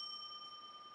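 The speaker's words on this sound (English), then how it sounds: "the child goes over and dings the smiley face bell." Smiley face bell dinged once, a clear metallic ring with a sustained, pure tone that decays slowly and quietly.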